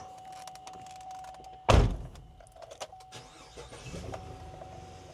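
A U-Haul truck engine cranks and catches in one loud burst, then settles into a quieter idle with a few faint clunks and knocks.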